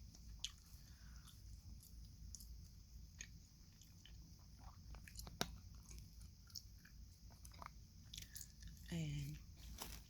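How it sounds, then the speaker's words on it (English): Close, intimate gum chewing with soft wet smacks, squishes and clicks scattered irregularly through a quiet room, ending in a brief low vocal sound. "chewing gum."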